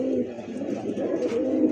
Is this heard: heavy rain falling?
no